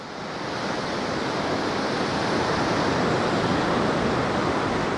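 Sea waves at a beach at Cala Millor, Mallorca, a steady, loud wash of surf rising slightly over the first second and then rolling on continuously without any voices.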